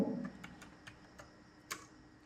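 Code is typed on a computer keyboard for a Python Django web project, a handful of quiet, irregular key clicks spaced apart, close by in a quiet room.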